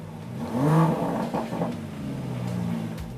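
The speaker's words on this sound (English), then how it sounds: "The hills are alive with the sound of a perfectly perforated British quad exhaust." A British sports car's quad exhaust revs, the engine note rising sharply then settling into a rumbling idle.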